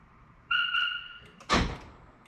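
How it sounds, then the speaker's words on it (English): A Chevy Express van answers a remote lock command sent from a Smart Start phone app: a short two-tone horn chirp, then a moment later a solid thunk of the door locks engaging. "From here, we're able to lock the vehicle"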